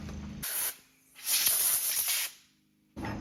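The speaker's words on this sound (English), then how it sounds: "So we can use our compressed air to clean this up a bit before we take that off." Compressed air blasts in short bursts to clean debris off a Stihl BG 56 leaf blower during routine maintenance, a loud hissing spray heard as two or three separate bursts close to the microphone.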